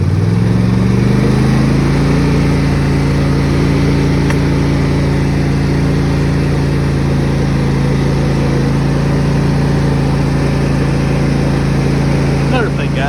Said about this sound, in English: I'll engage the PTO for you. Show y'all a little run through of it.